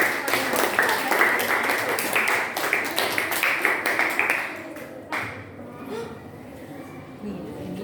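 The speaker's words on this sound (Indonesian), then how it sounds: "tepuk tangan buat teman-teman" Classroom applause for classmates: a burst of many hands clapping briskly for about five seconds, then fading into quieter room noise.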